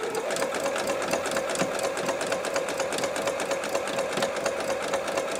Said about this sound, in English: so we're just going to start stitching